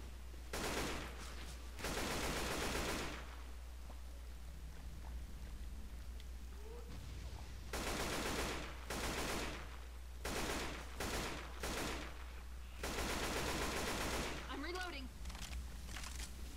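Bursts of automatic weapon fire in the zombie shooter Left 4 Dead 2, several loud volleys of a few seconds each separated by pauses, with voices and other game sounds between them.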